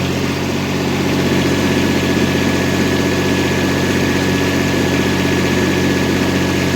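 A GAB-4 generator converted to run on diesel idles steadily at its first start, a loud, continuous low mechanical drone with vibration and no pauses or voices.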